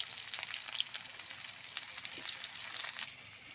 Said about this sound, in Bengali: এবার পেঁয়াজ কুচি দিয়ে দিচ্ছি।